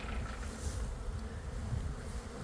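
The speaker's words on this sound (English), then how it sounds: "I hope you guys can hear this. We're having a swarm." A swarm of honeybees buzzes steadily and loudly outdoors near a boxwood bush, a dense, continuous drone of many wings with no voices.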